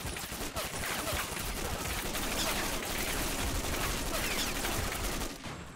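M249 SAW machine gun fire in a modern USA versus Russia video game battle, loud and nearly continuous rattling bursts amid heavy combat noise, fading slightly at the very end.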